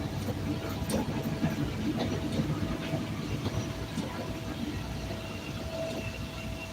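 Chicago CTA Red Line train in Rogers Park running steadily, a continuous low rumble and rattle with faint clicks throughout, no voices over it.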